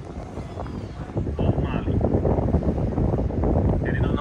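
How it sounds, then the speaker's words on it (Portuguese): Wind gusts across the microphone at a seaside apartment, a loud rumbling roar that swells and stays strong, with a brief spoken remark near the start. "Olha o vento, olha o cabelo."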